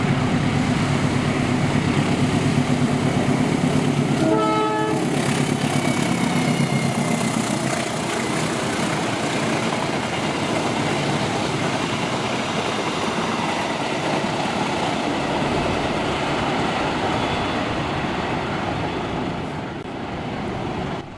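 The Serayu passenger train rolls past Kranji toward Jakarta with a long, steady rumble of wheels and engine, a short horn blast sounding early on before the roar slowly fades.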